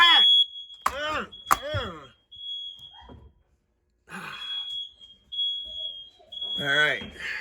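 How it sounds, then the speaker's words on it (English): A home smoke alarm sounds a sustained high-pitched tone that repeats in long bursts, close and loud, while people talk and shout over it. "I already silenced that alarm"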